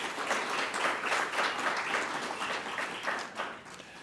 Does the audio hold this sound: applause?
yes